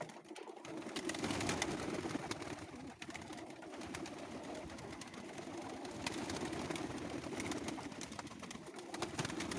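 Budapest sporting pigeons, breeding birds with their young, coo steadily inside a loft. The soft, continuous cooing from several birds sits over a constant background hum, with no voices.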